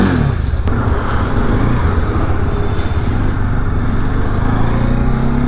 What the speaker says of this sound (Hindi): ये ट्रैफिक जाम है ना